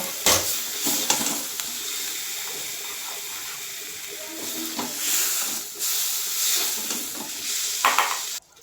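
Cooked spinach in yogurt is scraped and scooped from a hot pan into a bowl, with close spoon scrapes and clinks over a soft lingering sizzle, and no talk.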